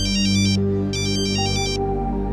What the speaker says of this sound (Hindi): नारवा का फोन है, उठाए?